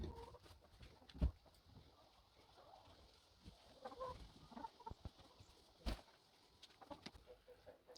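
Hens in a backyard coop with freshly cleaned nesting boxes cluck softly as the door opens on a farm in Canada, scattered low calls with a couple of sharper bumps, fairly quiet overall.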